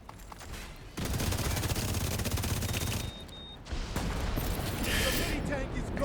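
Sustained rapid automatic gunfire from a shooter video game fights reanimated enemies, dense bursts lasting several seconds with a short pause, loud and close, while a player talks over the action.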